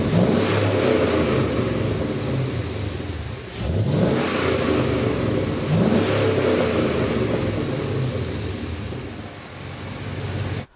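An LS V8-swapped Land Cruiser 80 Series truck idling after a cold start, recorded from behind at the exhaust, with a loud steady rumble and two brief revs that rise and fall, with no talking.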